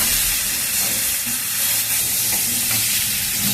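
Soybean curry masala with potato, plantain and eggplant being stirred and fried in a pan, a continuous sizzle and hiss with scraping stirring throughout, no voices.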